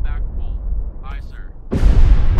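A heavy depth charge explosion from the naval game Destroyer: The U-Boat Hunter erupts after a quiet stretch with faint radio voices, a loud rumbling boom that keeps roaring to the end.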